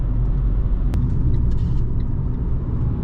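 Steady low engine and road rumble inside a Fiat 500 1.2 Dualogic Sport (69 hp) driving, a constant loud drone with faint ticks and no talking.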